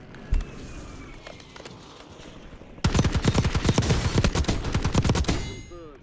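A Model L gun fires in a video game: faint scattered shots first, then a loud, rapid burst of automatic fire lasting about three seconds before it cuts off.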